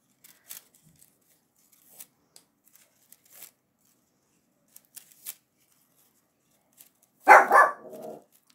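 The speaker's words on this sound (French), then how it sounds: "c'est le chien." A pet dog gives a short burst of barks near the end, close and clear, after sparse faint clicks and rustles from broom-making work in a quiet room.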